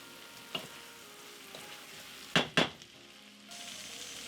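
Basmati rice is stirred in a pot with a soft background sizzle, marked by one light tap and then two quick, louder scraping strokes of the spoon close by, with no voices.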